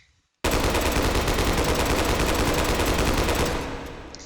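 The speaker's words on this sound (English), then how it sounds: "Switch that over. Yes! Full auto, baby." An M2 carbine fires full auto in the VR shooter H3VR: one long, loud, unbroken rattling burst of rapid shots lasting about three seconds, ending with a short fading echo.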